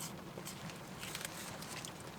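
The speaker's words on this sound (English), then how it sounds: "It's raining really bad." Heavy rain falls outdoors as a faint, continuous hiss with scattered patter, steady throughout with no voices.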